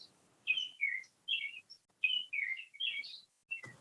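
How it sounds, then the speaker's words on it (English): Birds chirp and tweet in short, bright phrases repeating every half second or so, fairly faint, with no voices. "We can still hear the birds singing in the background."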